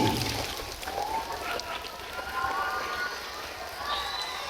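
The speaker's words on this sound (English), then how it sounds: "Clap hands, children." Children clapping their hands at a school birthday celebration for a priest, a steady patter of applause filling the clip while a voice talks over it.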